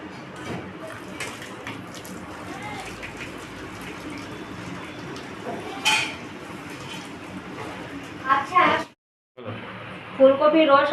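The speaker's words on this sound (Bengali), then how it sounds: "এবার আমি জলটাকে ছেঁকে নেবো" Water from steamed cauliflower is strained off in a kitchen, giving a steady rushing pour with light clinks of a pot or utensils, followed by a brief pause and then some louder splashing at the end.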